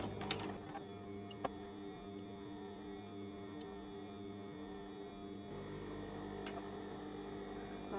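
A sewing machine stitches self-made bias binding onto a strap top, producing a faint, steady motorized hum with occasional light ticks and clicks.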